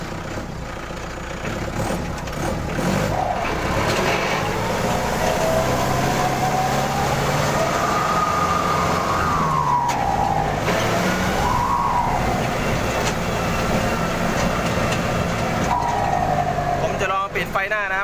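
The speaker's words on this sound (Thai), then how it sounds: "เดี๋ยวจะพามาฟังเสียงโบนะครับ" A Kubota L5018 tractor engine drones steadily while a turbocharger whistle rises and falls in pitch over the rumble, close and continuous throughout.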